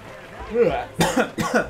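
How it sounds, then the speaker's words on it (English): A person lets out a drawn-out, strained yawn that breaks into two sharp, close coughs while playing Hot Shots Golf: Out of Bounds. "I just like yawned and coughed at the same time."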